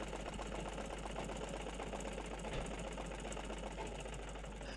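A sewing machine chatters steadily for the whole stretch, a dense continuous mechanical rattle with fast repeating stitches, close and moderately loud, with a faint motor hum underneath and no talking.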